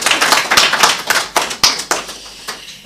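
An audience at a book presentation applauds, a fairly close patter of clapping hands that starts dense and thins to scattered claps before fading out.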